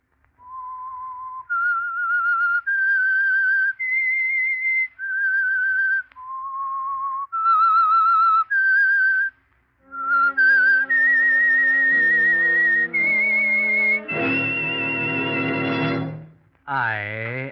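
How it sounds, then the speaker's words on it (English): A clear whistled radio signature tune of sustained notes rising and falling, followed by a brief orchestral musical sting as the melody ends. "That whistle is your signal for the Signal Oil Program,"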